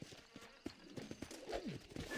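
Hooves clip-clopping and a horse whinnying in a Red Dead Redemption scene, with rhythmic near thuds and a rising whinny near the end, partly under a voice calming the mare.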